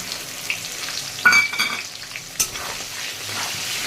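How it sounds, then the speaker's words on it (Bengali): Chopped onions added to a pan with a tempering of dried red chili and cumin, frying for mutton kosha with a steady close sizzle and a few scraping stirs and clinks of a spoon. "দেখো ফোড়নটা হয়ে গেছে, এবার পেঁয়াজগুলো দিয়ে দেবো"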